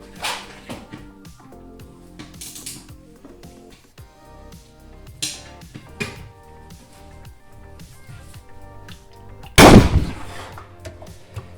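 A socket wrench on the over-tightened 17mm sump plug of a Yamaha Ténéré 700 gives scattered metallic clicks and taps, then one loud sharp crack as the plug breaks free, close by and with no talk.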